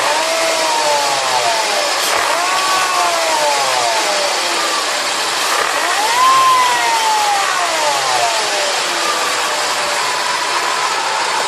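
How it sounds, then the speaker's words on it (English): A Mercedes CLK/SLK supercharged Kompressor engine revving up and down repeatedly with a rising, falling whine over a continuous mechanical roar, close by. "when I rev the engine"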